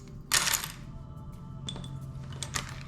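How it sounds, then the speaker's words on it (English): Wooden throwing sticks from an ancient Egyptian board game are tossed onto the board, making one bright clattering rattle. A few small, scattered clicks follow as they settle. "they didn't have dice then, so you use throwing sticks"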